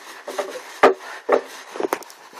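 A dirty brush is scrubbed against a damp, soapy surface in a few short, uneven rubbing strokes, close and fairly loud.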